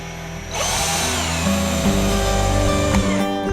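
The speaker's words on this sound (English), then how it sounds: "Then we can put in the screws." A power drill spins up and drives screws into wooden benchwork, its motor whining loudly and steadily with shifts in pitch as the load changes.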